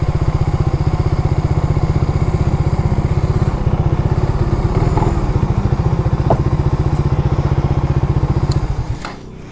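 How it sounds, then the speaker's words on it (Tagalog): Suzuki Raider FI motorcycles, a loud close-up engine putter with a rapid, even thumping pulse throughout, a few sharp clicks near the end as the sound drops off. "Yan yung mga motor nila, oh. Mga Raider FI."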